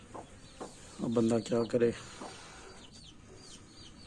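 A hen gives a short run of clucks over a low murmur of speech, followed by quieter chirping of chicks and rustling nearby.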